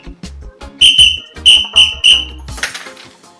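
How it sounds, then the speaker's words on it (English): Several sharp, shrill whistle blasts in quick succession, loud and close, with brief gaps between short bursts. "you're too close to be blowing a whistle beside somebody"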